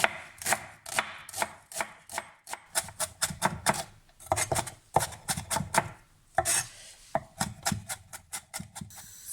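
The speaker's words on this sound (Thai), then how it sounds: "ต่อมานะคะเราก็จะมาหั่น ก้านเซรอรี่นะคะ" A knife chops celery stalks on a board at close range, giving brisk, steady cuts in quick bursts with brief pauses between runs, and no voices.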